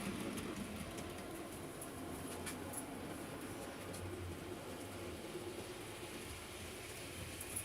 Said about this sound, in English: we'll just start off running some of the trains to see how the track's working